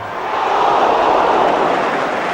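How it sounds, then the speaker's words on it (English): A football crowd at Old Trafford lets out a sustained ooh during a 1974 First Division match between Manchester United and Manchester City, a dense, steady roar that swells briefly in the middle. "Well might the crowd ooh."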